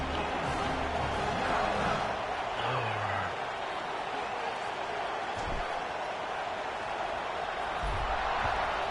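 A night-game stadium crowd in College Football 26 roars continuously as a loud, dense wash of cheering that holds steady throughout, with faint brief thumps beneath it.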